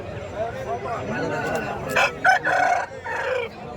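Kundarapalli breed chickens clucking nearby, with a rooster crowing in loud bursts toward the end; faint talking in the background.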